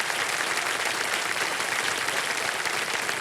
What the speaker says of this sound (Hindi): माता जी आपका तालियों के साथ आपका स्वागत करते हैं।